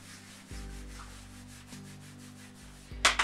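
Hands rubbing a leg during a hamstring-focused yoga stretch, a soft, steady friction swish in a few long strokes, close and fairly quiet, with no talking.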